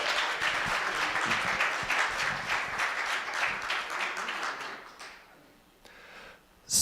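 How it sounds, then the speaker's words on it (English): Audience applause for a band at a large community event, a dense sustained wash of many hands clapping that thins out toward the end, followed by a brief burst of noise. "Another round of applause for our band."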